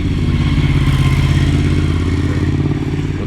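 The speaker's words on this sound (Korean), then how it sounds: "오토바이가 아주 빠르게 지나가줬습니다" A motorcycle speeds past close by, its loud, throbbing engine roaring steadily with a rapid pulsing beat and some rattling clatter, with no voices over it.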